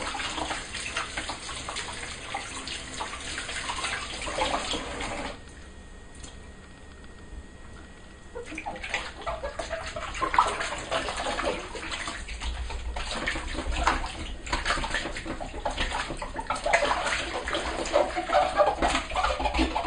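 Running tap water pours steadily as dough is rinsed off hands, a continuous splashing rush that briefly quiets for a few seconds and then returns louder, close by with no talking.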